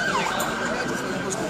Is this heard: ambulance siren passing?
yes